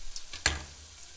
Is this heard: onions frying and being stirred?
yes